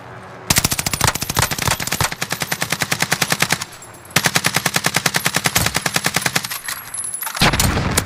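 Sustained automatic gunfire from the Warzone video game, loud rapid bursts of machine-gun fire with brief pauses between volleys, close and dominant with no talk over it.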